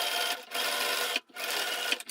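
A sewing machine runs a quarter-inch seam across a fabric face mask, a steady close whirring hum that pauses briefly twice before resuming.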